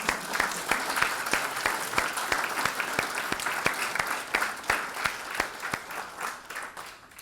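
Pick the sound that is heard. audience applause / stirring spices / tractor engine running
audience applause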